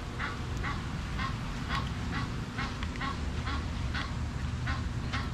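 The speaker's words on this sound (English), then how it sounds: "There's the flocks of ducks." Repeated quacks from a flock of ducks, evenly spaced and moderately near, ring out over a steady outdoor background with no talking.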